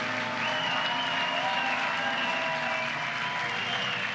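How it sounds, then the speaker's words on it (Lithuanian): Spectators cheer the winners at the finish of the 2011 Omnitel 1000 km car race with sustained, steady applause from a crowd, heard a little distant, with a faint whine of a passing engine. "jau girdisi žiūrovo aplodismentai, jau sveikinam nugalėtojus"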